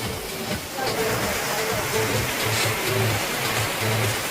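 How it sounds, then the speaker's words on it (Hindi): Water pouring steadily from a waterfall at a farm stay near Uttan Gorai, a continuous broadband rush filling the scene, with voices talking over it. "वाटरफॉल स्टार्ट हो गया"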